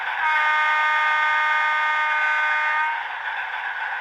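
A model train locomotive's sound-decoder horn gives one sustained, steady, buzzy multi-tone blast lasting about three seconds before cutting off, followed by faint background hiss, with no talking.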